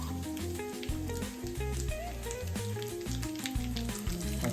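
Almonds frying in ghee, a busy close crackle and sizzle with a dense patter of pops under faint background music.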